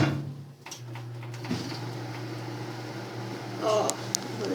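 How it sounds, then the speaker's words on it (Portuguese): Microwave oven heating a covered bowl of couscous, a steady low electrical hum with a faint whirr running throughout, a brief clatter near the end, no talk. "vou deixar por 3 minutos no micro-ondas"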